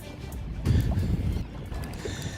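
A front-prop boat runs on bayou water, a steady low rumble with wind noise that swells midway through the short stretch and stays close throughout.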